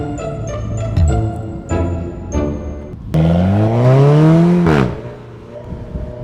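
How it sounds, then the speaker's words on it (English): An Alfa Romeo 4C coupe on city streets, giving several short throttle blips and then a strong rising acceleration run with gear change, loud and close before fading. "We're taking this 4C for a ride."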